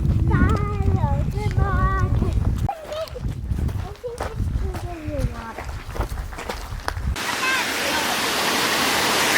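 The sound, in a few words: waterfall at Hanging Rock State Park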